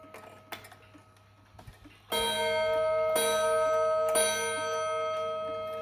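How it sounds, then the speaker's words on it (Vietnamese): A Japanese Aichi wind-up pendulum clock with twin copper gong rods strikes three o'clock: three loud, ringing gong strokes about a second apart, each leaving a long shimmering decay, after a quiet stretch of faint mechanical ticking. "Ba giờ có 3 tiếng. Tiếng chuông rất là hay đấy."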